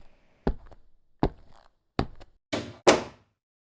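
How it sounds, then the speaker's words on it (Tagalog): A door closes indoors, making a series of five hollow thuds and knocks, each one sharp and close, with the last two the heaviest. "Sara ko lang yung pinto."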